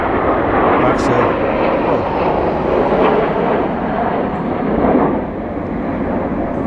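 A fixed-wing aircraft roars past in the evening at the RIAT Fairford airshow, a loud, steady broadband rumble that swells and then eases slightly, heard over wind and ride noise.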